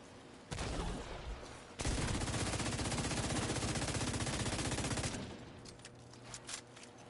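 Sustained automatic turret fire in The Division 2: a short crackle, then one long unbroken burst of rapid shots lasting about three seconds, loud and close, ending in scattered clicks and impacts, with no talking.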